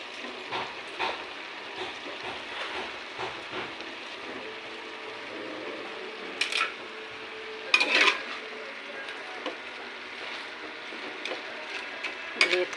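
Cauliflower tossed into a small wok and stirred, with a low sizzle under scraping and clinks of the utensil against the pan in uneven bursts, fairly quiet and with no talking.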